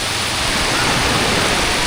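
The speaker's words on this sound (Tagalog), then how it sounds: "Naabot na kami dito ng ulan." Rain at an outdoor seaside spot where people are cooking makes a dense, steady hiss that fills the whole moment without any voices.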